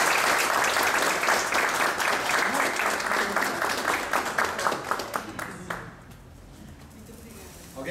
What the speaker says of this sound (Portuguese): Ela merece uma salva de palmas.